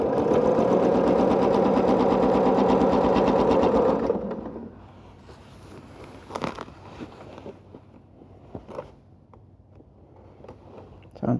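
Sewing machine stitching a tote bag made from quilted squares, worked in an awkward position: a loud, steady motor hum with rapid needle chatter for about four seconds, then quiet fabric handling and scattered small clicks.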